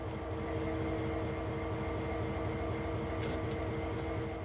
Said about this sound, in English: Climb aboard this locomotive and we'll get started.